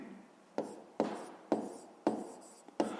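Writing on a board during a fifth-grade maths lesson, heard as five or six distinct strokes in an uneven rhythm, each a sharp tap followed by a short scratchy drag, close and fairly quiet with no talking.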